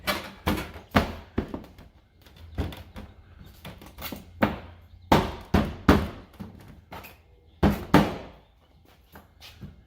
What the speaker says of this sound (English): Kind of got to pop that top corner in pretty good.